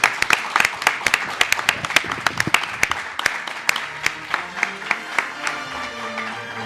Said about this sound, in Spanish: Oye, un gran aplauso, ¿no?